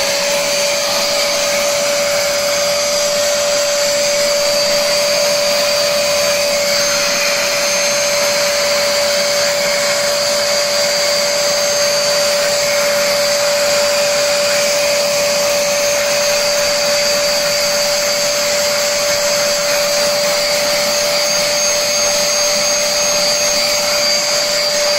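Loud, steady motorized whine of a Bissell SpotClean Pro portable carpet cleaner sucking up water, running continuously without pause and close by.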